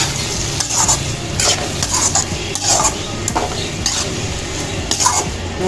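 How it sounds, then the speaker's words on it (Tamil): Egg rice with cut boiled eggs being stirred in a pan, with a steady sizzle beneath repeated scraping and clinking of a spoon against the metal, loud and close. "இந்த முட்டை கட் பண்ணி வச்சுருக்கிற முட்டையும் அதில் சேர்த்துக்கலாம் சேர்த்து அதில் கிண்டி விடுவோம்"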